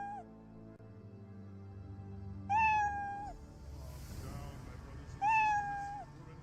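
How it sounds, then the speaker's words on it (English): Cat meows in the video game The Elder Scrolls Online, Orsinium: two drawn-out, wild-sounding meows a couple of seconds apart, ringing clearly over a low ambient game backdrop. "His actual meow is more like meow. Wow. Sounds like a wild cat."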